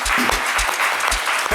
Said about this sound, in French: On accueille bien, avec les applaudissements qu'il mérite